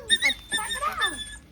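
A dog whimpers close by in a few high, thin, wavering whines that rise and fall, with short pauses between them.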